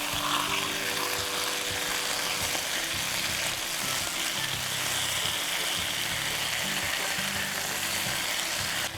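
Steady sizzling and frying hiss from a light stir fry in a non-stick pan with little oil, loud and continuous for the whole stretch, with faint stirring scrapes and no talk.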